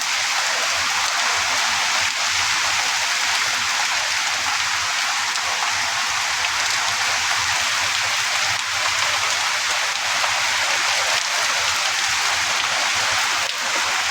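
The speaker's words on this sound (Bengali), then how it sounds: "খুব জোরে বৃষ্টি হইতেছে, খুব জোরে বৃষ্টি" Heavy rain pours down in a dense, unbroken hiss, loud and close, with no voices over it.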